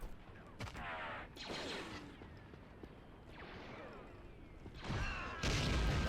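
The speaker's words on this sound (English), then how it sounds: "Big explosion here." Heavy battle din from a Star Wars Clone Wars video game assault on Mustafar, with loud booming blasts and bursts of rapid blaster gunfire. The bangs hit in repeated clusters and end in a final big explosion.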